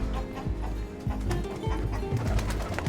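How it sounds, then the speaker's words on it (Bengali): Several white pigeons coo steadily at a desert camp in Wadi Disah, Saudi Arabia, their low throaty calls overlapping continuously at close range, with no talking. "এটার ভিতরে কবুতর, কিন্তু সম্ভবত সব ওই যে নর্মাল কবুতর সাদা।"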